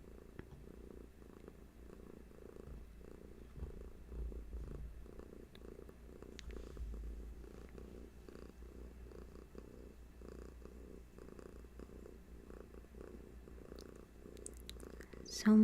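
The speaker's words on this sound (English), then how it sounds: "So much loud purr today, Hattie." Soft, rhythmic purring from a cat close by, a low rumbling pulse repeating steadily, faint and continuous with a slight swell in the middle.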